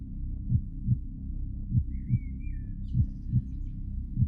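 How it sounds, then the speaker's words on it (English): A steady, drum-like heartbeat soundtrack pulses in slow double thuds, joined midway by a brief blackbird song phrase drifting above it. "the same soundtrack of the drum of a heartbeat, interrupted at times by the song of a blackbird"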